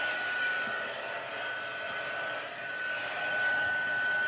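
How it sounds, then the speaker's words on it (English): Heat tool blowing hot air over a handmade card, a steady close rushing whoosh with a faint high whine, continuous and alone. "we don't want a big mess when we turn on our heat tool"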